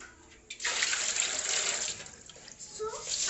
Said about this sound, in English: So I'll put some water in this bowl.